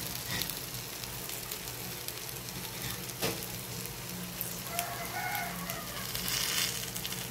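Banana slices coated in flour (maruya) frying in a pan of oil, giving a steady, faint sizzle and crackle with scattered pops throughout.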